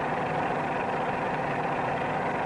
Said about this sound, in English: Another cue to the correct climbing attitude is the sound of the engine.